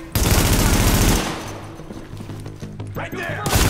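Rapid machine-gun fire in the shooter Tom Clancy's The Division, with a loud close burst at the start easing into lighter scattered shots and thuds, while a voice talks over it.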